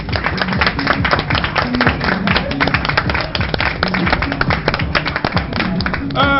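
An audience at a birthday celebration claps steadily for a father, dense rapid clapping filling the whole stretch at close range with no pause.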